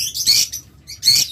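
Small birds at a bird seller's wholesale breeding farm chirp in two bright, high bursts about a second apart, close and fairly loud over a faint low background hum.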